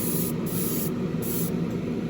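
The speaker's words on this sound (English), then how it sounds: "Every time you spray a metal flake" An airbrush sprays Createx metal flake paint onto a plastic AMT 1967 Impala street machine model car, a close, steady hiss that briefly cuts in and out with the trigger.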